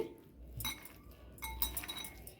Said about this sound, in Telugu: ఇవన్నీ బాగా అరటికాయ ముక్కలకి పట్టేటట్లు మనం కలపాలి